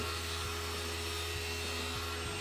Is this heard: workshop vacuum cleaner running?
yes